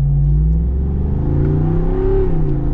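Jeep Wrangler SRT engine revving in manual mode at partial throttle, a continuous loud close-up growl with rising and falling pitch as revs climb and drop, no voices.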